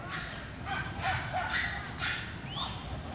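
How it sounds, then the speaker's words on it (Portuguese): Dogs barking and yipping as they chase a remote-control car around a dog park in Ibirapuera Park, São Paulo, several quick barks over busy outdoor background noise, with some voices. "os cachorrinhos se divertindo correndo atrás desse carrinho de controle remoto"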